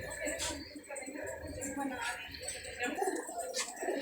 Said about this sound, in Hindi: और भाईजान बड़े बड़े लाजवाब इसके अंदर कबूतर हैं और बड़े कबूतर हैं, उड़े उड़ाए कबूतर हैं ये।